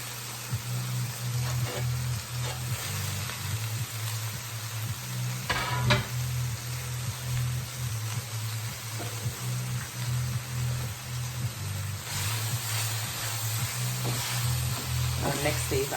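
Chopped, rinsed greens hiss and sizzle steadily in a hot pan, with occasional stirring scrapes and crackles; the frying noise is soft and continuous, and no one speaks.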